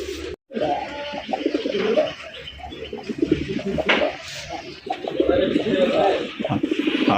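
Pigeons coo and murmur steadily throughout, close by at a pigeon sale, with soft bird calls layered over a busy background and a brief dropout near the start.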